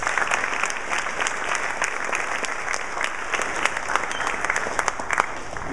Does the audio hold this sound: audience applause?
yes